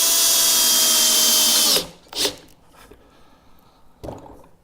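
A power drill whines loudly and steadily as it drives Simpson screws into a rolling tool cart, then stops abruptly, followed by a few quieter knocks and handling clunks.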